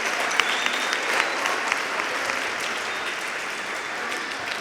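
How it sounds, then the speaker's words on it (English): Audience at a junior high school band winter concert applauds steadily throughout, a dense continuous clapping wash with a few sharper claps standing out, fairly close. "let's give them a round of applause for everything they've done for this year."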